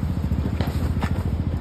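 A small motorbike climbs a mountain road in Bangus Valley, Kupwara, its engine close and loud with a steady, rapid putter.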